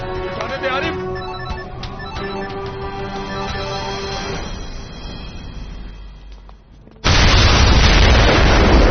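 A telephone rings repeatedly in a tense police-thriller movie scene, its bright trilling bursts over background score and vehicle rumble, before a loud sudden boom-like blast of noise cuts in near the end.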